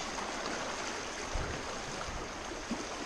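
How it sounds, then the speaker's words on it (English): A river current rushes steadily around a kayak, a broad continuous wash of moving water with faint low splashes and no voices. "you can see this current is moving"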